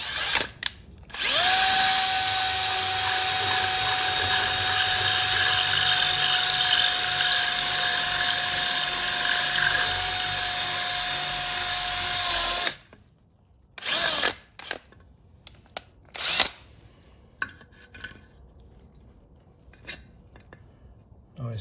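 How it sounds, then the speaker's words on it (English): A power drill with a 1/4 inch bit bores out the bolt holes in an IKEA PAX wardrobe door, running loud and steady for about eleven seconds, then stopping, followed by scattered knocks and handling noises. "So I'm going to use a 1/4 inch drill bit to drill out the holes that attach it to the door a little more"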